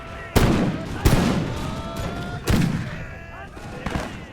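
Musket volleys from line infantry crack out in a Napoleonic-era strategy battle, with four or five sharp ragged bursts spaced a second or more apart, each trailing off in rumbling echo, loud and close.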